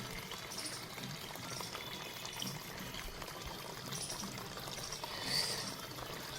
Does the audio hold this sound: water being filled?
yes